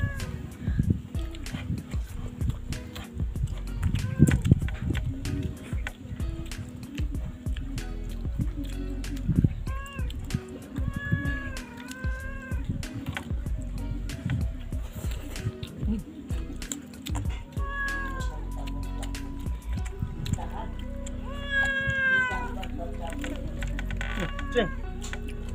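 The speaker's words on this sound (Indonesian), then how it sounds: "Pengen mukbang juga kucingnya." A cat meowing repeatedly near a family meal of coconut-milk fish curry with jaling beans, several drawn-out mews scattered over clattering and people talking.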